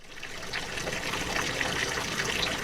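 Water runs from a hose off a 660-gallon fish tank into a greenhouse aquaponics manifold, a steady close trickling gush with light splashy texture and no voices.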